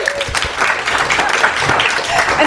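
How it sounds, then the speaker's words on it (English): An audience at a live running event applauds for marathoner Reid Coolsaet, a steady, dense wash of clapping close and loud that holds for the whole stretch with no pauses. "round of applause for Reid, everybody"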